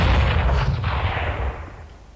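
A grenade detonates during a competitive Omen by HP UK Open Qualifier video game match, a loud, heavy boom that rumbles and decays over about two seconds.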